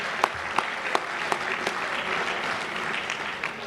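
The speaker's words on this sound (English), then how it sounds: "let's give them a big round of applause for the Delta Hotel." Audience at a chamber of commerce chairman's awards dinner in a hotel clapping, a dense round of applause with a few sharp individual claps standing out near the start.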